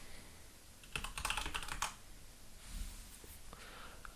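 Quick bursts of typing on a computer keyboard, soft close clicks in a short flurry then a few scattered keystrokes, quiet and alone.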